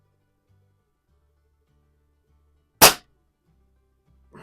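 A single sharp crack from a Pinty Vanguard .22 break-barrel air rifle fired at a splatter target, brief and loud against near silence, followed by a faint soft knock moments later.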